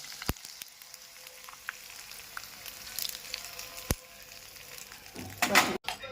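Hot tempering of oil, cumin, chillies and sesame is poured over rava dhokla: scattered faint pops and clicks, then a brief loud hissing burst near the end before a sudden stop, close, with no talk.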